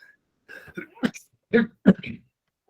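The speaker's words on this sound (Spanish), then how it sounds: "Perdón por la tos" Several sharp coughs in quick succession, close and fairly loud, with short pauses between bursts.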